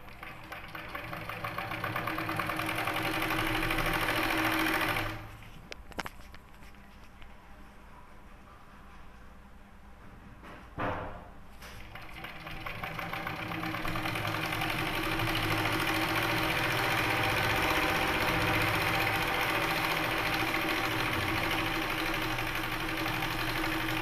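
A sewing machine stitching folded cloth for a pillow cover hums and chatters steadily up close, stops for several seconds with faint handling noise, then runs again at a steady pace.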